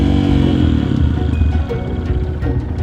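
A dirt bike engine revs continuously up close as the learner rider pulls away, its loud buzzing note rising and dipping through a missed upshift with some mechanical clatter.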